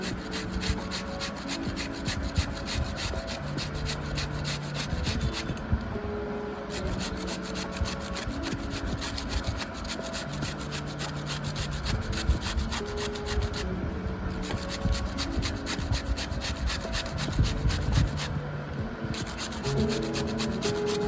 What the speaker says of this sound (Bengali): এরকম করে আমি ঘষে নিচ্ছি, বাকিগুলো ঘষে নিচ্ছি সবগুলো একবারে।